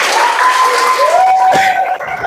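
Classroom of seventh-grade students clapping for a classmate, a dense steady patter of hands close by, with a teacher's voice speaking over it.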